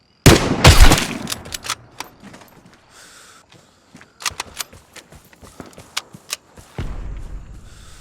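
Gunshots fired at an enemy in Vigor, a loud burst at the start followed by several sharp, separate shots scattered over the following seconds, close and distinct against a quiet background.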